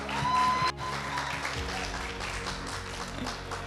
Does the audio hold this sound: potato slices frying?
no